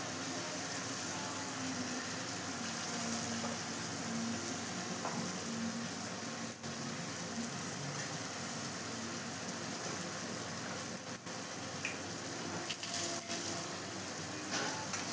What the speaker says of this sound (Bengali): ভালো করে মশলাটা ভেজে নিলাম।